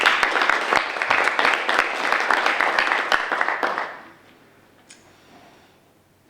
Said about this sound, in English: Can we please give them a hand of applause?